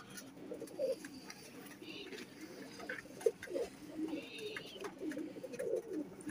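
Soft, repeated coos of a teddy pigeon rise and fall near at hand, with a steady hum of outdoor ambience and faint chirps beneath.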